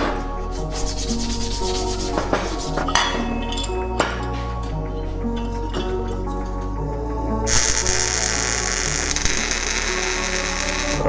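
Metal AE86 coilover sleeve being cleaned up before welding, with loud, close, continuous abrasive rubbing and sanding, scattered clinks, and a harsher, brighter grinding stretch near the end.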